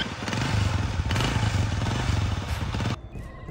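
A motorcycle engine runs loudly and close, its low putter pulsing steadily with some rattle and clatter for about three seconds before cutting off abruptly.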